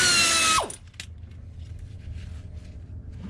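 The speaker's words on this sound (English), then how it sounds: "we're gonna use this, an air ratchet" An air ratchet loosens oil pan bolts on an MK4 car. It gives one loud, close, high whirring burst of about half a second, then stops abruptly, leaving a quiet room hum.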